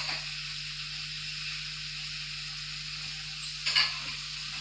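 Yogurt goes into tomatoes frying for mutton pulao, setting off a steady, fairly quiet sizzle with a sharp, louder hiss burst near the end as it hits the hot pan.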